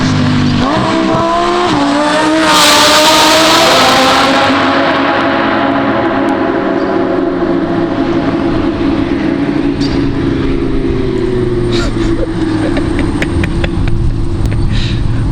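A loud Lamborghini Huracan EVO engine with an aftermarket exhaust revs hard and downshifts, the exhaust roaring and rasping close by, with a sustained growl that follows.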